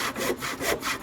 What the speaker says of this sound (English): we always say you can do our cuts using hand tools